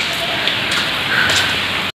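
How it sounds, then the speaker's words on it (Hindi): In Uttar Pradesh, India, heavy rain that has fallen steadily for about three hours makes a dense, even hiss with scattered patter before cutting off abruptly. "कम से कम 3 घंटे से बराबर बारिश हो रही है।"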